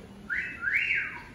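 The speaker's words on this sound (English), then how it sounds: "That whistle was for my good friend, Fritz." A single bright two-part whistle, rising then sweeping up and down, rings out briefly and fairly close in an animatronic bird show at a Disney attraction, alone without talk.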